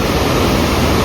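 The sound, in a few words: rushing mountain stream near Kapuche Lake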